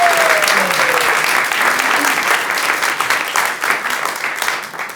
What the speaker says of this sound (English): Let's please give it a round of applause for this amazing group of people.